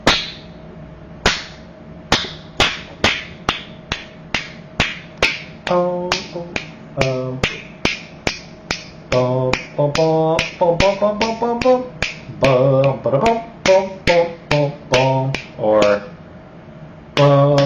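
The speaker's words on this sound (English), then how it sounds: "why do you snap so hard?" Hard finger snaps in a classroom setting, a long series of sharp loud cracks at an irregular quick pace, later mixed with a short spoken word and tonal background sounds.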